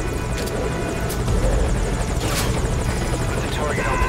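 A helicopter in Metal Gear Solid V: Ground Zeroes drones loudly and steadily, its rotor roar filling the scene without a break.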